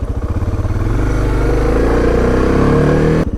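A Suzuki DR650 motorcycle fitted with an Acerbis 6.6-gallon gas tank cruises along, its loud single-cylinder engine thumping steadily with wind rush, then shifting pitch briefly near the end.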